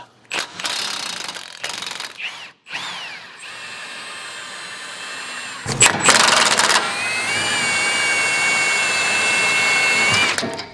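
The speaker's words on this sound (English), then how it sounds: "I'm using chrome sockets on an impact gun." Impact gun fitted with chrome sockets removing suspension bolts on a Ford Maverick Hybrid; loud, close bursts of rattling hammering, then a sustained high whirring run near the end.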